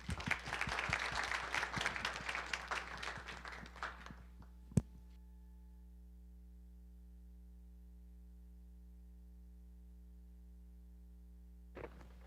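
An audience welcoming a lecturer bursts into dense applause for about four seconds, then cuts off to a low hum with a single sharp knock and a brief rustle near the end.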